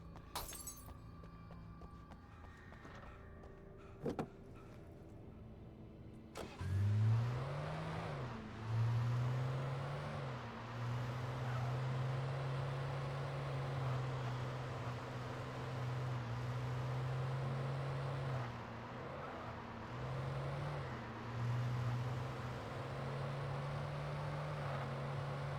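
A car engine in Alan Wake starts after a sharp crash, then idles and revs in a steady droning hum that rises and falls for about twenty seconds, fairly quiet and close.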